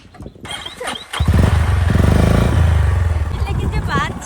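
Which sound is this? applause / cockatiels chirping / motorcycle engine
motorcycle engine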